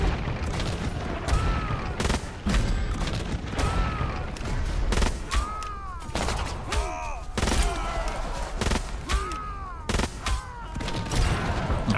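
Tank cannon and gun fire during a battle in the strategy video game Millennia, repeated sharp booming shots at irregular intervals mixed with whooshing battle effects, steady and fairly loud throughout.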